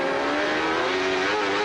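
CART Indy-style race cars at the 1994 Belle Isle Grand Prix in Detroit, a loud, continuous high-pitched engine scream held steady and close throughout, with no voices over it.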